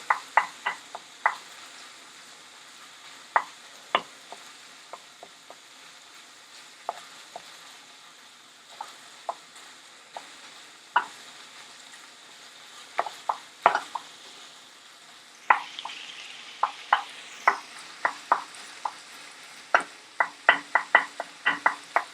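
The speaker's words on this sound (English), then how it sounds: "Just move around, keep breaking up the mince." Seasoned minced meat frying in a pan is stirred and broken up, with a soft continuous sizzle under repeated sharp scrapes and knocks of the utensil against the pan, coming in bursts.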